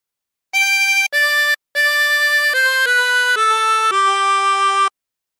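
A 16-hole tremolo harmonica plays a short phrase of Hark the Herald Angels Sing, with distinct sustained reedy notes in a stepwise run, two short notes, a brief gap, then a longer descending line, close and loud.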